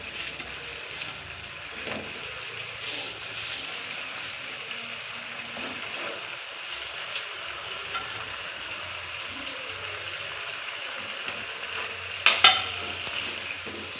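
Fried chicken pieces tossed into a hot pan for majestic chicken give a steady, close sizzle with scraping stir strokes throughout, and a sharp metallic clatter near the end.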